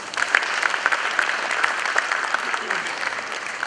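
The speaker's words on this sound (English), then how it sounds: "Let's give him a round of applause." An audience at a lecture hall talk gives sustained applause, a dense, even patter of many hands clapping at moderate volume, with some voices underneath.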